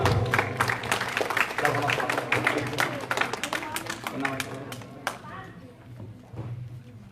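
Audience at a magic show bursting into dense, sustained applause that gradually thins out, with a voice speaking over the clapping.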